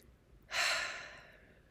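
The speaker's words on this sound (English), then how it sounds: "take a good few nice, big, full, complete breaths" A single deep breath, a long airy inhale swelling up and then easing into a slow, fading exhale, close and alone in a quiet room.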